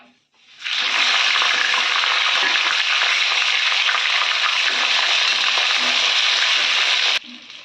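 Chillies sizzling in hot oil in a home kitchen pan, a loud steady crackling hiss that starts abruptly and holds evenly for several seconds before cutting off, with no talking.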